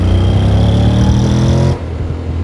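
A Honda Forza 750 scooter engine pulls hard under acceleration, a loud, close, rising drone with strong harmonics that drops off sharply after nearly two seconds into a lower rumble.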